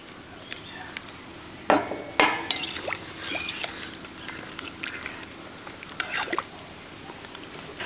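Measured water, about five and a quarter glasses, poured into a pot for rice pathiri, with a couple of sharp knocks and clinks of glass against the pot and a soft liquid splash running underneath; no voices.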